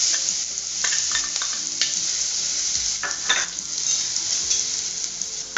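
Ginger, garlic and chili paste sizzles steadily in hot oil with cumin, sesame seeds and asafoetida, a close, continuous frying hiss with occasional stirring scrapes throughout.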